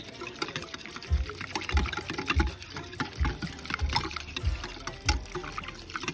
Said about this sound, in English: So that's some more juice that I'm adding to it.